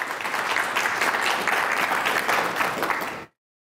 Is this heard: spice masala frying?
no